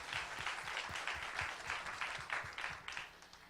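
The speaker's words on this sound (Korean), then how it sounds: "박수로 마무리하겠습니다." Applause from the audience at a startup venture forum, a dense, steady wash of many hands clapping, fairly quiet and distant, lasting a few seconds without talk.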